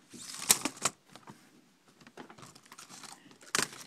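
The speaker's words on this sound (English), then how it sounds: "you got to push them in with a small screwdriver, each one" Small screwdriver pressing in the plastic retaining tabs of a Dell N5110 laptop keyboard, giving close, sharp clicks and plastic crinkles in irregular bursts, loudest near the start and end.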